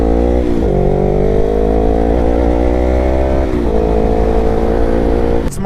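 A 2019 Yamaha R3 streetfighter fitted with an M4 full exhaust revs loudly and close by, its raspy engine note holding and rising, dipping briefly twice, then cutting off sharply at the end.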